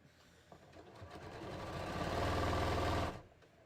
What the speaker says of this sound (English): let me just sew these bust darts here in my front now